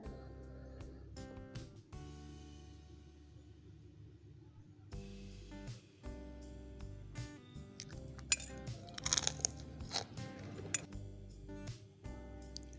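Biting and chewing of crispy fried bread bites, with crunchy chewing and a few light clinks of dishes or cutlery, close and fairly quiet with no talk.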